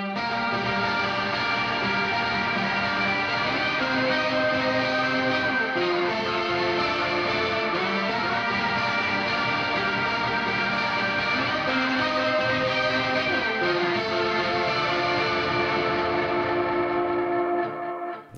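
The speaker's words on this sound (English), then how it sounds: "That particular stuff in this order is gonna give you that Leslie sounding." Electric guitar through a Headrush unit set for a swirling Leslie-style rotary effect, sustained chords and notes washing steadily and loud for the whole stretch, alone with no talking.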